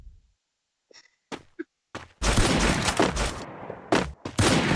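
Sniper fire in a video game: a few faint thuds, then a long stretch of dense, loud bursts of gunfire with brief gaps and more sharp blasts near the end.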